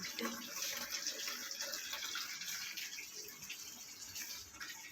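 Water for watering plants runs in a steady, faint stream, an even gushing hiss that continues without pause.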